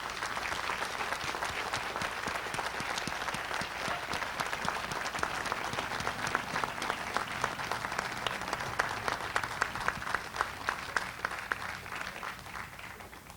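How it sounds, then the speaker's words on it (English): Big, sustained round of audience applause in a large tent at a Lewis and Clark bicentennial closing ceremony, honoring singers and drummers. Dense clapping swells slightly toward the end before tapering, with no talking over it. "So if we could have a big round of applause for the singers and drummers."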